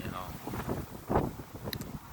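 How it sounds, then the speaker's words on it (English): Gusty wind rumbles against the microphone under a person talking, with low buffeting bursts swelling and fading. "It's a little windy out here"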